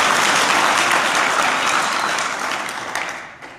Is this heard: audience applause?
yes